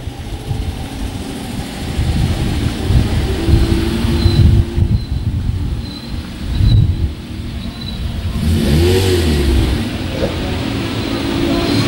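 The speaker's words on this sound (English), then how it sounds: "The cars are now starting to return to the pits" Volkswagen race cars roll back into the Silverstone pits after a race, engines idling and rumbling nearby with occasional revs rising and fading as they pass, a continuous mechanical drone.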